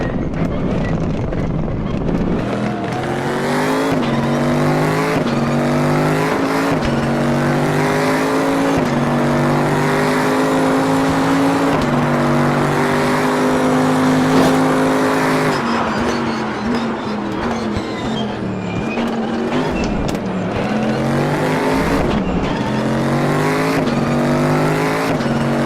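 A race car in RaceRoom Racing Experience roars close and loud throughout, its engine pitch climbing and dropping through repeated gear shifts, with a constant wash of wind rush and no talking.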